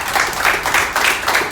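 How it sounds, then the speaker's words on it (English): An audience claps for a woman being introduced at an event, a moderate burst of clapping with a rhythmic, pulsing quality, several swells close together, fairly near and without talk over it. "So just give her a round of applause for putting this on."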